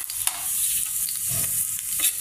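A dry red chili frying in hot oil for mango dal gives a bright, close sizzle and crackle, with a few soft stirring scrapes and no talk.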